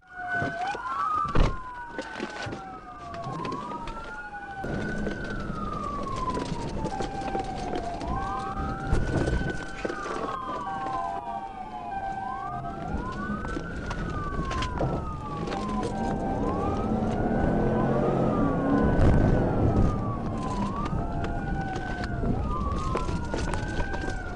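Police sirens wail continuously, their rising and falling tones repeating in overlapping cycles amid steady street noise, fairly close and loud throughout.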